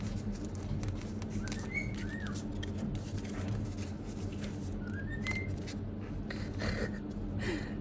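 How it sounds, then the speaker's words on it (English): A pet bird gives short, faint chirping whistles in the background of a quiet indoor room, a few brief phrases spread over several seconds with no talking. "Can you hear my bird singing in the background?"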